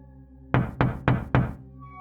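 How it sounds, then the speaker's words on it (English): Four sharp, evenly spaced knocks on a car's passenger side window, loud and close, with a faint steady hum underneath and no voices. "there was a knock on the passenger side"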